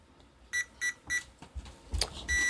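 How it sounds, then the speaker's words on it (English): A Traxxas Rustler RC car's electronic speed controller gives a series of short startup beeps, a few evenly spaced then a rising pair and a longer final tone, close and clear over quiet background. "Let's see how many beeps that gives us."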